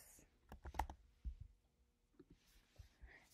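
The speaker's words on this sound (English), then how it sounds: "let's type that in and see if that makes sense." Quiet clicks of typing on a computer keyboard, a handful of light taps in an uneven burst close by, with a faint voice briefly audible underneath.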